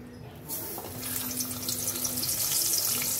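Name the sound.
pomfret fish frying in hot oil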